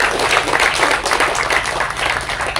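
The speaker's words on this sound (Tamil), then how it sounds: "தயவு செஞ்சு ஒரு கைத்தட்டல் கொடுக்கும்" Audience applause at a Tamil film music launch event, a dense, steady wash of clapping filling the hall throughout, loud and continuous with no pause.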